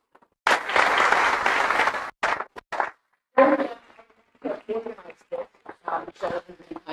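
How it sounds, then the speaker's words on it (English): An audience applauds at a live crypto meetup in Singapore, with a loud burst of clapping lasting over a second that breaks off. Speech follows in the rest of the clip. "So, can you say a big applause,"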